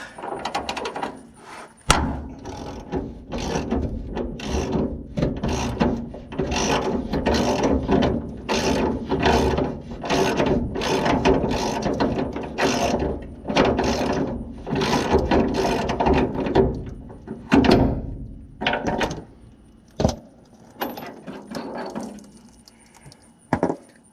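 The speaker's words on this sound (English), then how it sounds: "Here, get your socket and your adapter on. Run the wrench up through." A ratchet wrench clicks steadily in fast, close bursts while removing the bed bolts on a 1976 Ford F100 pickup, with a few metallic clunks toward the end.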